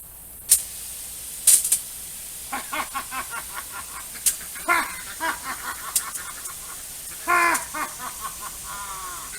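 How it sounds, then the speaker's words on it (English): A pressurized garden hose on a simple hose-line irrigation setup sprays water in irregular hissing bursts, with chirpy, sputtering spurts between quieter gaps. "So now the garden hose works."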